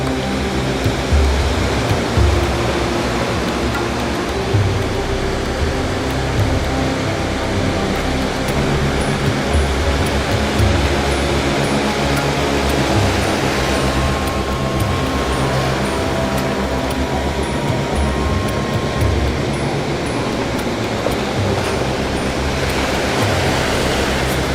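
High ocean waves breaking at sea during a canoe fishing trip, a steady, loud, wash-like roar of surf that continues without a break for the whole stretch, with no voices over it.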